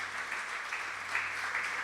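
A church congregation applauds at a worship service, steady dense clapping filling the room at moderate loudness with no voices over it.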